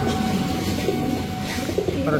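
Giribaz racing pigeons, high-flyer birds, coo softly in a loose, repeating rhythm nearby. A faint background hum runs under the calls.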